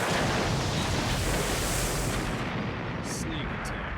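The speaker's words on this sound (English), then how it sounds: "I couldn't hear you over the explosions." Explosions from the video game Naruto Shippuden: Ultimate Ninja Storm 2: a dense, loud, continuous roar of blasts and rumbling debris that fills the whole stretch and barely lets up.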